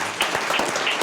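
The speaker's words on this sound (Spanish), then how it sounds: "Y un aplauso a todos" Brief burst of applause from an audience at an arts lecture event, dense steady clapping close by, with no talk over it.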